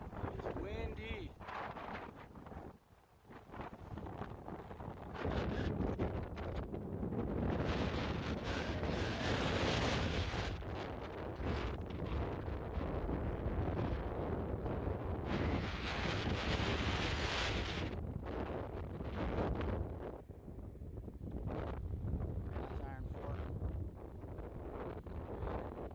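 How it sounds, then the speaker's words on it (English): Strong wind on a small hilltop near Iron Fork roars and buffets the microphone in loud, sustained gusts, easing briefly near the start and again toward the end, with a voice faintly heard. "It's windy."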